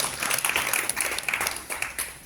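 Audience applause at a live launch event in a studio, a steady dense wash of many hands clapping with a few sharper claps standing out, running continuously at moderate volume with no talk.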